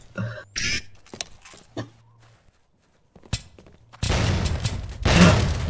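A grenade goes off in a competitive shooter video game match, a sharp burst of gunfire and impacts, then a loud, sustained blast and rumble that fills the last seconds.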